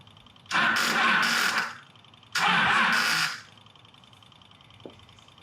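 A Yamaha FZ1 motorcycle with the choke on cranks through two loud, sustained starter attempts of about a second each that fail to catch, followed by quiet and a small click.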